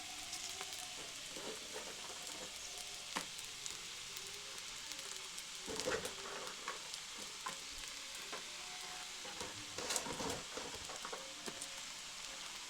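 Boiled chowmein noodles stir-fried with spices in a pan, a soft continuous sizzle broken by scattered scraping and clattering stirring strokes, a few louder bursts, fairly faint overall and no speech.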